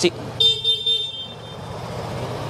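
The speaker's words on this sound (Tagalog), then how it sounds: "Busina, ito po." A short, fairly quiet horn beep from a 2024 Vespa S 125 scooter, lasting about a second, over low background noise.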